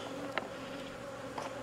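Honey bees buzz faintly around hives in a nuke yard, a soft, steady hum with a couple of brief, closer passes by individual bees.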